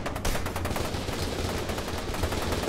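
Continuous automatic gunfire in the first-person shooter F.E.A.R. 2 as shots are fired up at a roof, a loud, unbroken rapid stream of close shots with no talking.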